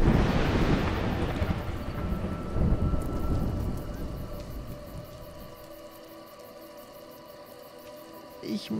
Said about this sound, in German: Ein Gewitter zieht auf.